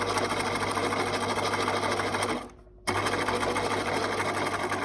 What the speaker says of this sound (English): the quilt guide onto the first row of stitching and you start to sew. So we go backwards and we keep on sewing.